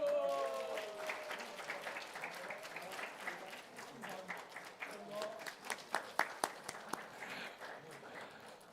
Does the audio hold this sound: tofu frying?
no